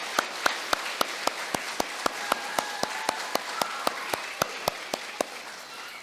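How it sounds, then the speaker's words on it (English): Audience applause at an elementary school awards ceremony, heard as a steady run of sharp, evenly spaced claps, fairly close and with no talking. "Let's give them a round of applause."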